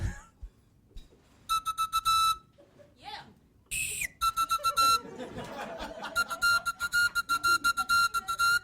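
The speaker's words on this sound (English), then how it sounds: "Demi, can you do a whistle with your lolly?" Shrill, piercing toots from a whistle pop lollipop, first a few separate blasts, then a fast rhythmic string of pulses, with laughter in between.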